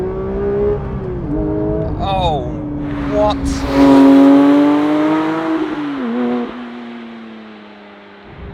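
Porsche 911 992 GT3 manual, its engine note climbing through rising pitches as it accelerates under way, loud and close, with a brief shift dip and a short excited exclamation from a voice.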